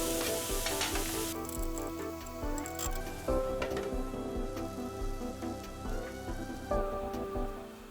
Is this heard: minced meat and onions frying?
yes